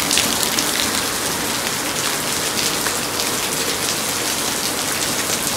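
Heavy rain pours down on Mussoorie's Mall Road in a dense, continuous roar, drops pattering hard on surfaces all around, loud and unbroken throughout.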